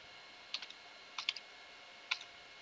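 Typing on a computer keyboard in a quiet room, three small clusters of light key taps close to the microphone over a faint background hiss.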